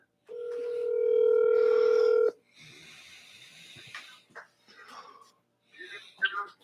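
A phone call is placed to someone: a steady, loud tone sounds for about two seconds and then cuts off. Soft, quiet voices and breathy sounds follow.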